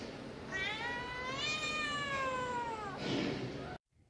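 A cat drawn out onto a rooftop across from a kitchen gives one long, drawn-out meow and then a second, shorter cry. Both are loud and close, with no talk over them, and the sound cuts off abruptly at the end.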